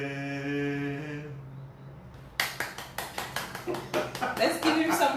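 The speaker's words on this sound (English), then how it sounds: "Let's give him some claps." Audience applause breaks out after a sung hymn fades, a burst of many hands clapping in an uneven, steady patter at close range, on a live radio show.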